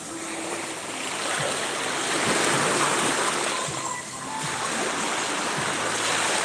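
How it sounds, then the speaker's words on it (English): Ocean waves surge in a continuous rushing roar that swells louder toward the middle, a close broadband wash of water with no voices over it. "Look at that wave coming up"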